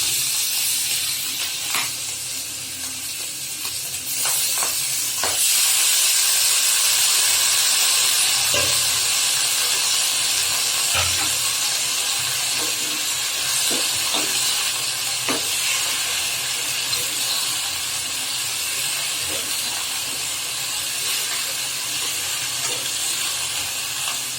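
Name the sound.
leafy greens sizzling and stirred in pan with dry fish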